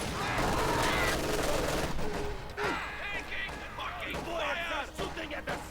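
Rapid MG42 machine-gun bursts rattle through a Company of Heroes 2 battle, mixed with other gunfire and battle noise, while voices talk over the fighting throughout.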